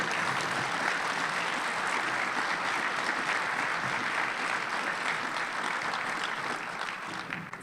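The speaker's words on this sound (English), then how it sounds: "I'd like a big round of applause for Bill Owens" Sustained audience applause at a conference keynote for speaker Bill Owens, a dense, steady wash of many hands clapping that carries evenly for several seconds before easing slightly at the end, with no voices over it.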